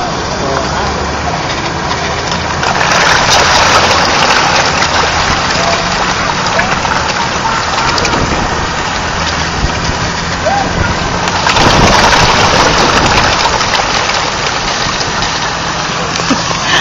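Water from a fountain splashes and patters steadily, producing a broad, hissing wash that swells louder around the middle and near the end of the stretch, heard close up in an outdoor setting.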